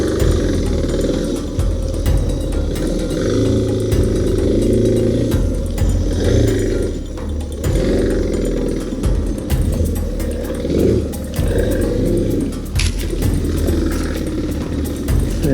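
Motorbike engine straining and revving hard to climb out of a rut, loud and close, in bursts that surge and drop with throttle over several seconds, with no talking.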